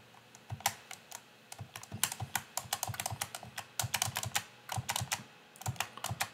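Rapid typing on a computer keyboard, with clusters of crisp key clicks coming in uneven bursts and brief pauses, close and clear with no one speaking.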